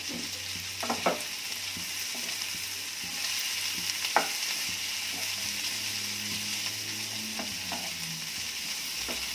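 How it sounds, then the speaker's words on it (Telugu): Chili and coriander powder sizzle steadily in a pan for a broccoli, potato and tomato curry, with scattered scrapes and clinks of stirring over a constant frying hiss, up close without speech. "చిల్లీ పౌడరు ఇది వేసుకుందాం. వేసుకొని అంతా ఒకసారి తిద్దాము."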